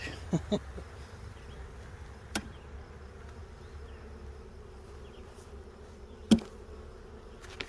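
Bees buzz faintly and steadily around an opened beehive during an inspection, with a few soft knocks and handling sounds close by.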